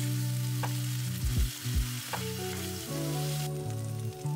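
Curry spices and aromatics stir-frying in a pot, a steady sizzle with occasional scraping and stirring knocks from a spoon, close and alone with no talk.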